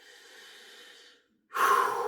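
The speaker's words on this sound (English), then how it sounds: "Sorry for the heavy breathing. My asthma's playing up today" Heavy, labored breathing from a person with asthma flared up in wet weather: a long wheezy exhale, a brief pause, then a louder, harsher breath up close.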